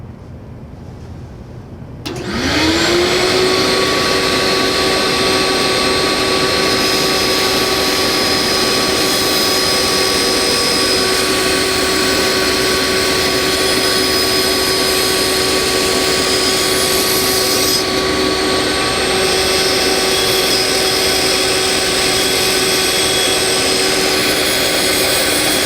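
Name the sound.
bandsaw cutting excess material off a wooden insert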